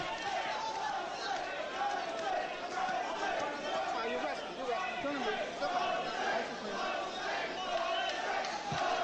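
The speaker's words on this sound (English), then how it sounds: "Crowd taking up a chant of Jose." A 1986 boxing crowd at the Tyson vs Ribalta fight chants a fighter's name during the eighth round, a loud, rhythmic, sustained chant mixed with general arena chatter and commentary voices.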